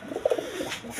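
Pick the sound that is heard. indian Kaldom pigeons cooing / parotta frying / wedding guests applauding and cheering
indian Kaldom pigeons cooing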